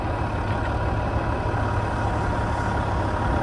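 A log truck idles steadily while unloading wood onto skids, a continuous low diesel rumble with a broad constant hum and no break for the full few seconds.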